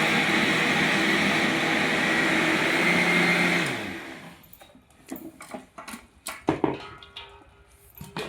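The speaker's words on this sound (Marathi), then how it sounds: "ती मिक्सर करायची." A home mixer grinder whirs loudly and steadily while grinding khapli wheat for kurdai wheat milk, then cuts off partway through, leaving scattered clicks and clatter of the jar and lid.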